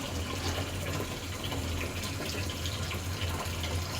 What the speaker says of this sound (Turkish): Üstüne arıtma suyumuzu akıtalım.